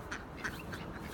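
A backyard duck quacks three times at a moderate distance, in quick, nasal bursts spaced evenly over a faint outdoor background.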